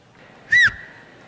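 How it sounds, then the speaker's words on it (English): A single short, sharp whistle blast rings out at a conference, loud and close against quiet room noise. "listen for my whistle"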